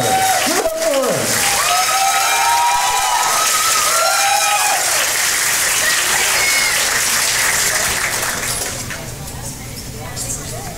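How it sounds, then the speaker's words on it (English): Loud audience applause and cheering fill a convention dance competition hall at Rocky Mountain Fur Con 2013, sustained and dense with whoops and whistles, fading somewhat near the end. "Give it up for us."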